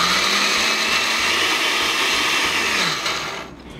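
A kitchen blender grinds fresh corn kernels into a fine batter for corn fritters, a loud, steady, whirring roar that runs continuously up close before tapering off at the end.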